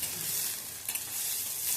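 Onions, green chillies and curry leaves sautéing in hot oil give a close, continuous hissing sizzle, with a brief scrape of stirring near the middle and no voices.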